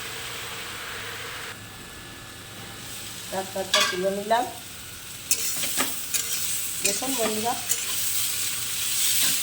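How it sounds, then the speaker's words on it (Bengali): Red amaranth greens with carrot fry in a pan, a steady sizzle broken by bursts of scraping stirring and spatula clatter, close by, while a person speaks briefly over it. "লাল ডাঁটার শাক সবজরা ভাজা হয়ে গেছে গাজর দিয়ে দিচ্ছি এই যে দেখুন সুন্দর ভাজা হয়ে গেছে"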